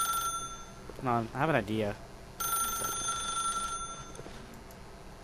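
A telephone rings in the video game The Stanley Parable, a steady electronic tone that starts partway through and continues to the end, with someone speaking briefly just before it begins.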